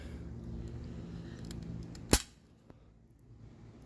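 A single sharp crack as an airsoft pistol fires a BB through a chronograph, one close snap rising out of a quiet room hum, followed by a faint click.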